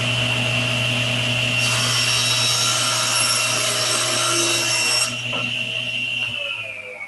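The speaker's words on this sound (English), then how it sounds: "And the board is ripped to final width." A table saw rips a wooden board to width, the motor's steady whine joined by a louder, brighter cutting roar for a few seconds before the blade runs free and begins to spin down.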